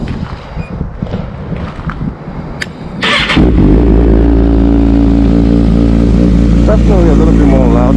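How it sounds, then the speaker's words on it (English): A Kawasaki ZX6R motorcycle with a decat exhaust cold-starts outdoors in the dark: quiet rustling first, a brief starter whir near three seconds, then the engine catches into a loud, steady idle that holds close by until the end. "I'm about to give this bike a cold start."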